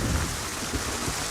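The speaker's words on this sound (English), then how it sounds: "the rain pours down on them" Heavy rain pours down in a movie scene, a constant dense hiss of drops hitting surfaces with low rumbling underneath, no voices heard.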